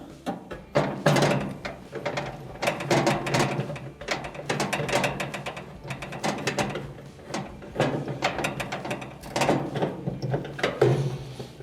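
Screws are driven back into a dryer bracket during an idler arm and pulley repair, with rapid ratcheting clicks and mechanical rattles in close, uneven bursts.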